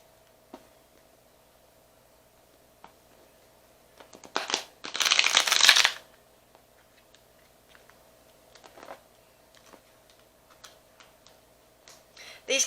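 Tarot cards are shuffled by hand, giving a short burst of riffling, flapping paper noise in the middle, surrounded by faint scattered ticks and card taps in a quiet room.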